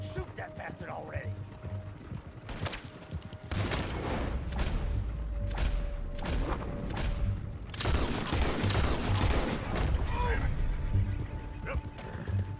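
Gunfire in Red Dead Redemption 2 crackles through a busy scene, with several sharp shots and clattering mechanisms breaking over steady background noise while voices talk throughout.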